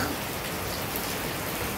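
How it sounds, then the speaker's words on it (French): A dense, even hiss of rain fills the whole moment, close and fairly loud with no pauses. "il a commencé à pleuvoir"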